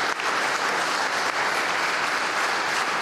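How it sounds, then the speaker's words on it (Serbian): Warm, sustained applause fills a factory event in Niš, Serbia, with many hands clapping densely and evenly throughout and no break. "molim sve da se zahvalimo jednim toplim aplauzom Leoniju"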